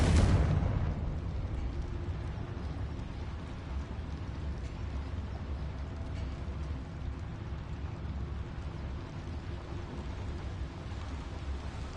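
Confringo spell explosion in Hogwarts Legacy on PS5: a sudden loud blast at the start, then a long low rumbling decay that lingers faintly for many seconds.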